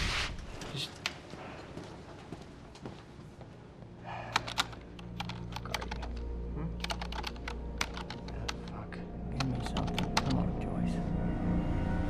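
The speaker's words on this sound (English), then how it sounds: "Why would he be using his keyboard?" Computer keyboard typing in the video game Quantum Break, bursts of quick, crisp key clicks in uneven clusters over a low ambient hum, with quiet breaths and murmurs in between.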